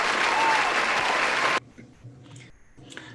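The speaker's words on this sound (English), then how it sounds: "let's welcome them with a big round of applause" Audience at a community theatre awards show giving a round of applause, a dense, loud burst of clapping that cuts off abruptly after about a second and a half, followed by quiet room noise and faint sounds.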